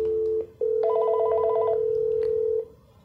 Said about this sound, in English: So here you can see the phone is ringing